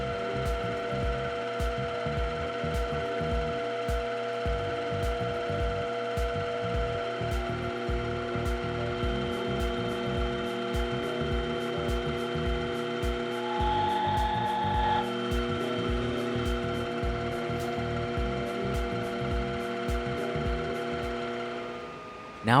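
A small home-shop lathe turns down the upper edge of a custom watch movement holder, giving a steady mechanical whir with a rapid, even ticking pulse throughout, briefly shifting in tone midway before spinning down at the end.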